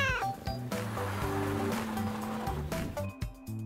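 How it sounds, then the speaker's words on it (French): A small stray cat meows at the roadside, several short mewing calls over a continuous musical backing that nearly masks them. "Soudain, ils remarquèrent un pauvre petit chat au bord de la route."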